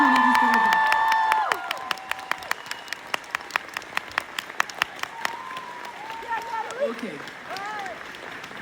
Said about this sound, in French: Et vous pouvez les applaudir très très fort.